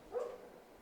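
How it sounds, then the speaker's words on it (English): A dog gives a single short, faint bark, heard alone with no talk. "So there's my dogs."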